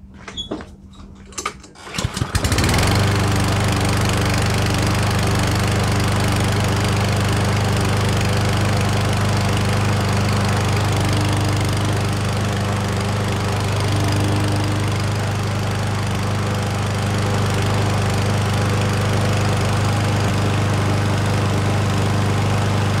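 A walk-behind lawn mower engine with a freshly cleaned carburetor fires up after a brief clatter and then runs at a steady, loud, even drone for about twenty seconds.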